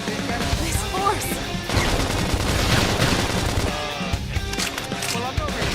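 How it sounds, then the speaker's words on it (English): Rapid gunfire in the video game Xenoblade Chronicles X, dense bursts of shots and impacts mixed with battle effects and game voices, loud and continuous. "Knock him over with gunfire."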